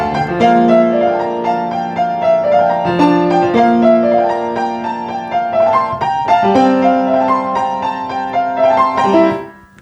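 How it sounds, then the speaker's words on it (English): An orchestra plays the Donner thunder-god motive from Wagner's Das Rheingold: rich sustained brass and string chords in repeated rising phrases, full and resonant, ending with a quick fade. "he introduces the motive of the god Donner,"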